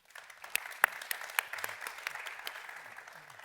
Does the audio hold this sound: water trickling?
no